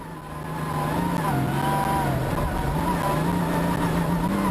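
A BMW X3CC rally car races at the Dakar Rally, its engine swelling into a loud sustained drone that rises and falls in pitch with gear changes, close by and continuous, with no voices.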